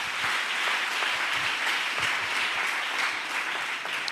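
Church congregation applauding, dense sustained clapping from many hands filling the room at a loud, even level throughout.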